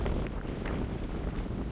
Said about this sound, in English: But walking against the wind,